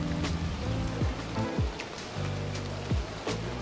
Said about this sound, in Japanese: 外に出てみたら雨。